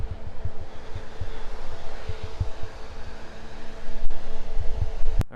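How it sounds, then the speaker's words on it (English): Auxiliary electric cooling fans on a Mercedes W124 run with a steady, close whirring drone and low hum, loud and unbroken, with a brief knock near the end. "The fans on the 124 are on, the aux fans."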